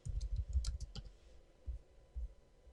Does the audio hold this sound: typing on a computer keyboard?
yes